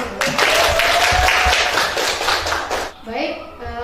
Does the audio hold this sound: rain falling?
no